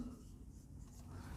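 A teacher writes on a board during a Class 10 polynomials lecture, giving a soft, close scratching that runs steadily through the short clip over a faint low hum, with no talking.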